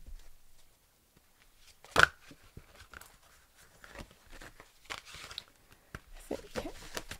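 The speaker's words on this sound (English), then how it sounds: "Let me just shuffle these a little." Tarot or oracle cards being shuffled by hand: soft, scattered papery flicks and riffles, one sharper snap early on, fairly faint and close in a quiet room.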